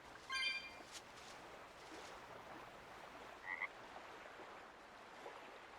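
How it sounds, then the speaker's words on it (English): A frog croaks in the Tales of Berseria video game, a short raspy call near the start and another brief one later, faint against a soft steady ambient background with no talking. "Look! A frog!"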